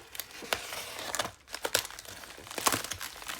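The seal of an iPhone SE package is cut open, with close, busy crinkling and tearing of plastic wrap in quick irregular bursts and no talking.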